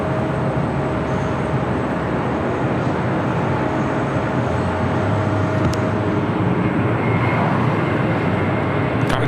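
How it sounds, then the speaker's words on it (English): Delta Boeing 767-300ER jet, 33 years old, taking off from the south side at LAX, a sustained loud engine roar with a steady rumble that holds throughout, alone without talk. "Delta 767 A300ER heading to JFK, heading down for a south side takeoff"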